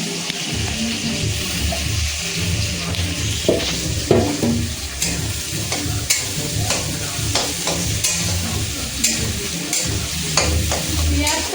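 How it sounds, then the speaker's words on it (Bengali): Onion fries in oil with garlic and green chilli while mutton is being cooked, a loud, continuous sizzle with frequent scraping and clattering of a spatula stirring the pan throughout. "পেঁয়াজটা একদম ভাজা ভাজা হয়ে যাবে"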